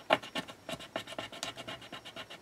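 Rubbing over paper laid on a dragonfly to make a rubbing, producing quick, rhythmic scratchy strokes, close and fairly quiet, with no talking.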